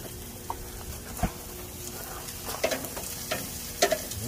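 Steaks sizzle on a grill, a steady close frying hiss with scattered clinks and scrapes of tongs or utensils.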